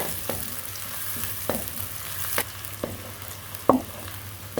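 Onions fry and brown in ghee with a soft continuous sizzle, punctuated by a few sharp stirring scrapes and one louder clack near the end.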